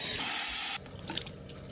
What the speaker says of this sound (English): Let's turn the faucet on.